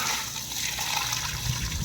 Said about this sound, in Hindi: इस पानी को गिरा देते हैं।